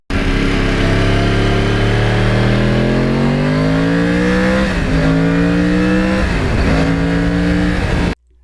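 A 2009 Yamaha R1 with a crossplane engine revving hard nearby, the pitch climbing in a long rising sweep, then dipping and climbing again twice before cutting off; loud and alone.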